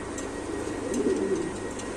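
Maltese pigeons coo softly at close range in a breeding loft, a low rolling call rising near the middle over a steady hum of background noise.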